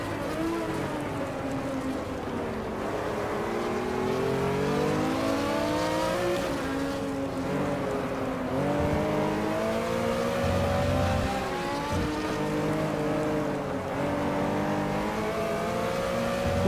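Several race cars revving and jostling in a GT racing game, a Porsche 911 RSR at Okayama, with a steady engine drone that rises and falls in pitch as the cars fight close together throughout.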